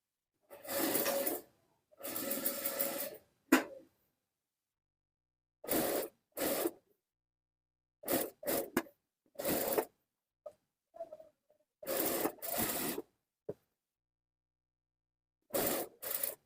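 A sewing machine stitches a kameez neckline in short intermittent bursts of rapid whirring and clatter, close and fairly loud, separated by silent pauses and small handling clicks.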